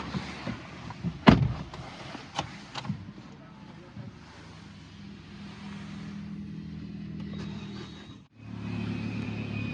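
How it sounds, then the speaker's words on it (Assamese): A second-hand car at a dealer's lot is started, with an early thump followed by a steady low engine rumble that cuts out briefly and then resumes, heard close by with some background noise. "তেখেতে গাড়ীটো ষ্টাৰ্ট কৰি দেখাই দিব"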